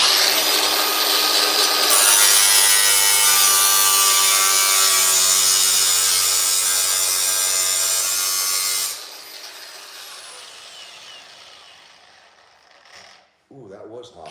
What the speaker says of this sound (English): I had to get this cutoff wheel